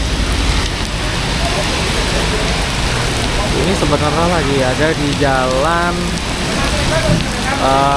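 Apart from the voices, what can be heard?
heavy rain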